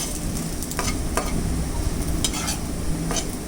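Vegetables for a village-style Bengali vegetarian curry fry in a pan with a steady loud sizzle, broken by repeated scraping stirs at a slow irregular rhythm. No voices.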